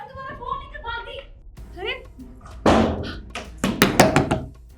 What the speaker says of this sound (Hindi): इसने दरवाजा बंद कर दिया, अब क्या करे?